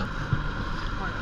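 A powerful, fast motorboat runs at sea in an offshore east wind near a harbour, giving a steady, loud engine drone with wind buffeting the microphone throughout.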